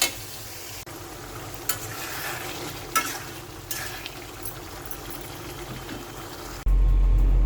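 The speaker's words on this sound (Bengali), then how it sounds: "রোস্টগুলো কষিয়ে নিয়ে এভাবে কষাতে কষাতে আর কি সেদ্ধ হয়ে যাবে" Spicy roast cooked down in masala in a pan, a continuous sizzle with repeated scraping stirs at intervals, close and moderately loud, ending in a sudden louder burst of frying noise.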